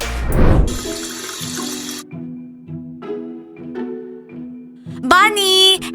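A tap runs with a bright, steady gush of water, switched on and off in bursts between quiet gaps, while a voice and other speech are heard around it.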